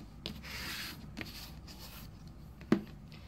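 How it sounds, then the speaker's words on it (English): A sheet of paper being folded in half for origami: soft rubbing and creasing swishes, a few brief rustles, and one sharper crisp crackle near the end, close and fairly quiet. "Just fold that in half and left to right."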